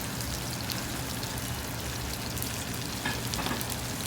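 Potato-crusted salmon sautéing in a pan gives a steady, even sizzle and crackle that runs throughout at moderate loudness, with no voices over it.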